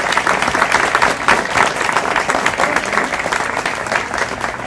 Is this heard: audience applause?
yes